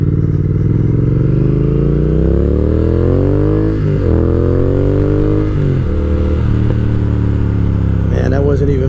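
A 2020 Triumph Speed Twin motorcycle rides and accelerates on the road, its engine note rising and dropping through gear changes with a loud, close exhaust and wind rush, a rider's voice talking over it.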